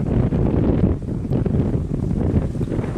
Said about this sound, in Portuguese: Um vento.